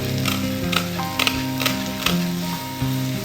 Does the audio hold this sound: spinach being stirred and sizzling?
yes